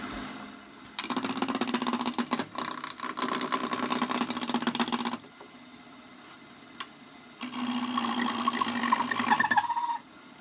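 A wood lathe spins a blank for a Christmas angel ornament while a German-ground roughing gouge knocks the corners off, a loud steady whir with gritty cutting noise in two long bursts separated by a quieter running stretch.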